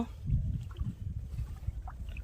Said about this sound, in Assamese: নাও যাত্ৰা আৰম্ভ